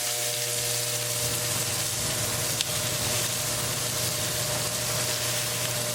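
Chopped onion fries in a pan for a meatball curry, giving a steady, even sizzle with a low mechanical hum underneath and no talking.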